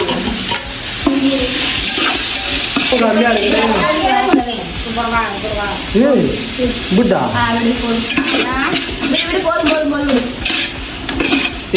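Tomato and mint hit a pot of biryani base frying in oil, giving a loud, close sizzle with scraping, clinking stirs from a spoon on metal, while someone talks over it throughout.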